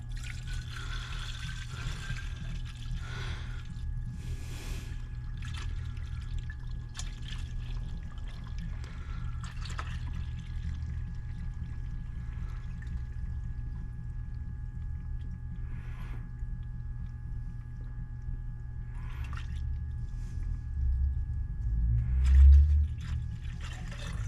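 Coolant being poured into the cooling system of a 2018 GMC Acadia during a refill, a steady low liquid glug and trickle running continuously at close range, with a louder splashing burst near the end and no talking.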